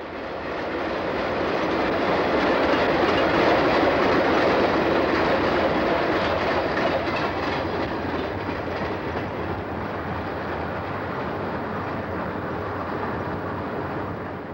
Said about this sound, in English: This Erie, Lackawanna-powered Conrail train came out of Croxton Yard.